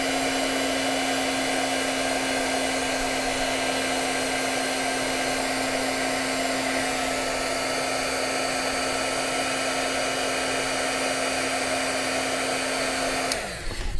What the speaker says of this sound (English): I'm going to keep my heat gun right here.